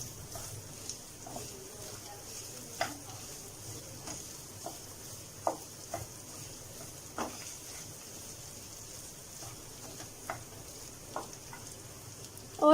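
Minced meat qeema with kasuri methi and garam masala is stirred in a pan, a soft low sizzle with occasional scraping ticks of the spoon, fairly quiet.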